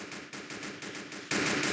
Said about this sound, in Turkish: kolundan vurdum